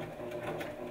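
A sewing machine stitches over a bodice shoulder seam, a brief close whirring run of the needle mechanism, steady and moderately loud without talk.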